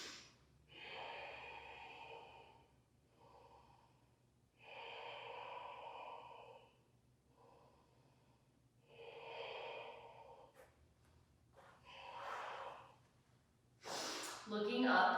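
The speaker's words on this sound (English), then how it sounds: "Take 2 more deep breaths in and out the nose" Deep breaths drawn in and pushed out through the nose during a cardio yoga flow, about five slow, airy rushes with quiet gaps between them, close to the mic, ending with a sharper, louder exhale.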